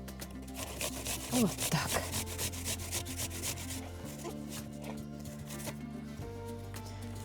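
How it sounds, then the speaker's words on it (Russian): Apples grated by hand, giving a continuous rasping, scraping rub in uneven strokes at close range, with a short stretch of talk in Russian over it. "Так, начинаю с яблок. Можно так натирать"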